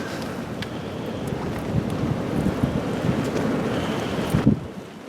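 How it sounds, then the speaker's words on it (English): Strong wind buffets the microphone outdoors on a fishing trip, a steady rushing roar with gusty low thumps that peaks near the end before easing off. "As you can tell by the wind, it's horrible out today."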